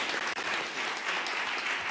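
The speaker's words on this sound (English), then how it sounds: "I want to applaud all of the panelists again." An audience claps steadily for panelists at a symposium, a dense, even wash of applause throughout.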